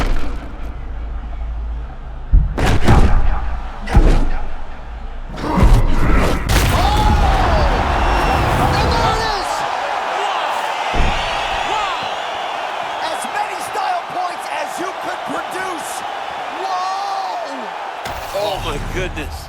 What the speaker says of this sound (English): Huge shots being landed on both sides.